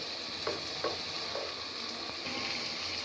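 Chicken sautés with garlic and ginger paste in a pan, a steady close sizzle with a few soft stirring scrapes punctuating it.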